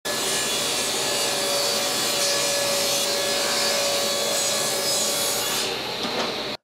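A saw blade cuts steadily through wood at an angle, a loud continuous rasping whir that holds for several seconds before cutting off abruptly.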